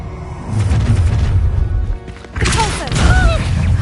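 Confringo fire spell explosions in the game Hogwarts Legacy, a loud booming blast and rumbling crash, a brief dip, then another heavy burst with crackling effects and whooshing magic sounds layered over it.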